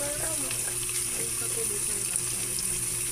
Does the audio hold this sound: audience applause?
no